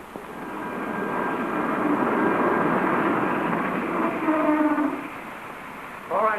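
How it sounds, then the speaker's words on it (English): A running train gives a steady, loud mechanical rumble that builds and holds, with a faint high whine and a few brief tonal squeals near the end; no voices come through. "Train stops in 5 minutes."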